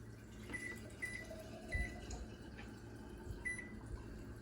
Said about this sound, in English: Kitchen timer set for 10 minutes.